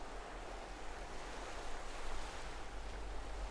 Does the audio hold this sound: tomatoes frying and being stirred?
no